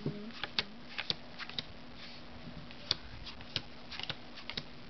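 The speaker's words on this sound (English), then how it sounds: "Now I'm just going to lay down cards." Playing cards are laid down one by one on a table after a shuffled deck is cut, making faint, irregular soft snaps and flicks over a quiet background hum with no talking.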